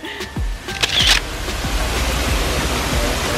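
Steady broadband rush of a waterfall on a sightseeing stop in Puerto Rico, loud and continuous with a few brief knocks and handling bumps near the start.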